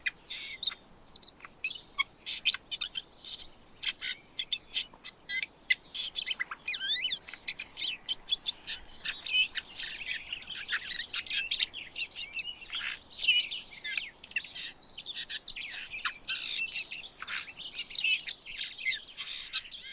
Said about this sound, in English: In mountainous forests, the Steller's jay is one of the most vocal birds.